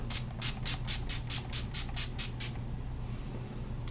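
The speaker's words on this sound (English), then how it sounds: "I'm just going to take my Urban Decay Chill Makeup Setting Spray" About eleven quick hissing spritzes of Urban Decay Chill makeup setting spray in a rapid, even rhythm, then quiet room tone.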